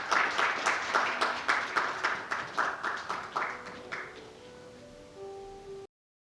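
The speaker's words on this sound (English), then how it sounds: "Please welcome them with a big round of applause." Audience applause at a Korea-Caribbean high-level forum, a sustained round of clapping that gradually thins out and fades, heard from within the hall with no talk over it.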